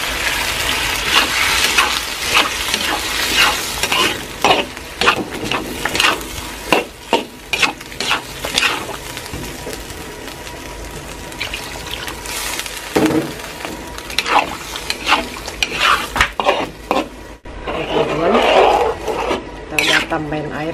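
Loud bubbling and sizzling of beef offal cooking in a pot of boiling spices for soto, with stirring scrapes and splashes throughout.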